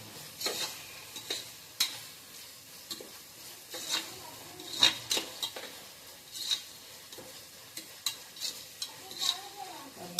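Tomatoes sautéing in a pan for vegetable biryani, a soft sizzle beneath repeated scraping and stirring strokes of a utensil against the pan at an irregular rhythm, close and fairly quiet, without talk.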